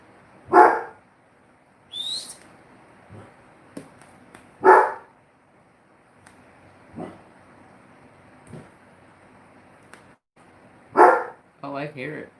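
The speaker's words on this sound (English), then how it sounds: "He's barking at the swamp cooler vent." A dog barks at a swamp cooler vent in several sharp, separate bursts with quiet pauses between them, and faint other sounds mixed in.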